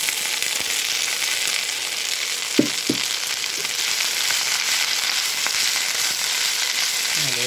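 Mint leaves sautéing in a pan for chutney, producing a steady, even sizzle with a few brief clinks of a stirring utensil, close and continuous.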